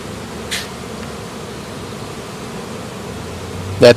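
A honeybee swarm drones steadily around a new hive box outdoors, forming a continuous buzz with a couple of brief, louder passes close by.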